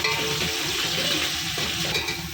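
Onions frying in hot oil for a potato kurma, a steady dense sizzle with faint stirring clinks, close and fairly loud throughout with no voices.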